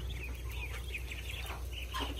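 Chickens cluck softly near a home yard, a few short scattered calls over a low steady background hum, faint and with no talk.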